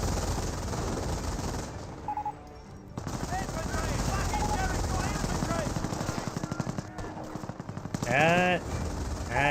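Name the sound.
squad machine gun fire in video game Company of Heroes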